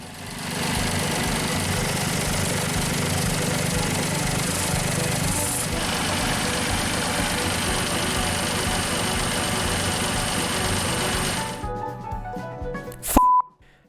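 A tractor engine runs steadily after a tune-up, a loud continuous idle throughout before cutting off near the end, followed by a brief click.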